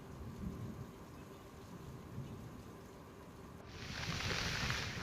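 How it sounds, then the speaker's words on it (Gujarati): Heavy rain falls in Jamkandorna, Gujarat, a steady dense hiss with low rumbling beneath, swelling louder toward the end. "વીજળી ગાજવીજ સાથે અહીંયા ધોધમાર વરસાદ પણ ખાબક્યો હતો"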